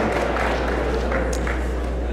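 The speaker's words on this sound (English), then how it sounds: "That's a round of applause." A college audience gives a round of applause at a speaking event. The clapping is a steady, dense wash of many hands at moderate level, heard from a distance with faint voices beneath it.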